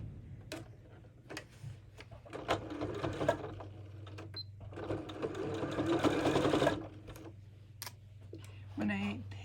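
A sewing machine stitches a strawberry drawstring bag in short, close bursts of rapid mechanical whirring separated by pauses, with a voice talking over parts of it.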